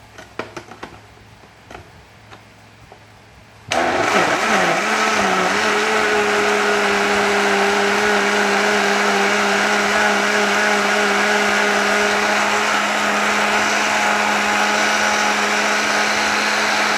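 A blender crushes cabbage and ginger for a drink, starting with a few light knocks and then bursting into a loud, steady motor whir that runs unbroken to the end.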